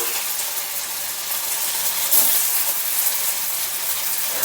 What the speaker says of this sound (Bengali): তেল গরম হয়ে গেছে মৈঠাগুলো আমি তেলের মধ্যে ছেড়ে দিচ্ছি